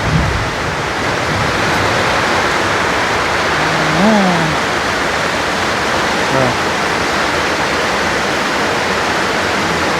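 Heavy rain pours down in a dense, steady hiss, with a couple of brief, faint voice sounds barely rising above it.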